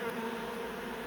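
A cluster of honey bees hums in a dense, continuous buzz outdoors during the relocation of a brick beehive in Gisborne, steady and moderately loud with no voices.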